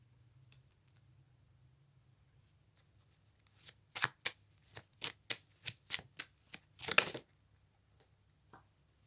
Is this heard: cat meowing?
no